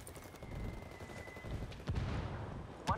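Mortar and gunfire in Ghost Recon Wildlands: a steady low rumble of distant battle with a couple of sharper booming impacts near the middle and end, no talk over it.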